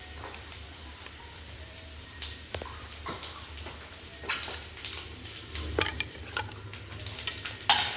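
Onion and garlic fry softly in a pan before corned beef goes in, a faint steady sizzle punctuated by sharp clicks and scrapes of a utensil stirring.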